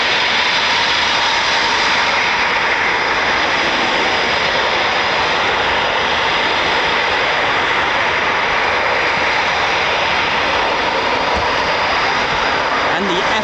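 An RAF Typhoon FGR4 jet engine roars loudly and continuously at close range, a dense steady blast with voices talking over it.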